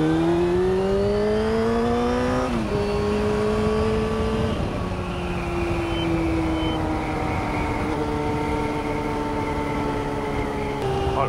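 A car engine pulls in 4th gear up a hill at about 4000 rpm, a steady droning whine heard from inside the cabin that rises slightly, dips at a shift in load and then holds level under road noise.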